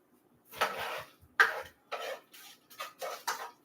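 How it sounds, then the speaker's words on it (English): Ground beef is stirred in a skillet that is not yet hot and has no oil, for a one-pot creamy lasagna pasta. A utensil gives a series of short, separate scraping and clattering bursts against the pan, close by and with no talk. "Oh, the ground beef is right here. All right, let's get this stirred for about a minute or two."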